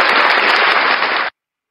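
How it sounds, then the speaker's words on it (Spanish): Loud audience applause at a live Venezuelan llanera music show, a dense burst of clapping from the crowd right after a song, filling the room steadily before stopping abruptly. "¡Aplausos!"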